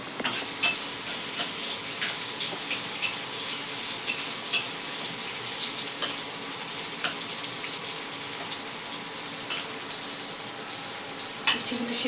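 Bitter gourd pieces boil in a pot of water for sukto, a steady close hiss and bubbling with occasional faint clinks, continuous throughout with no talking.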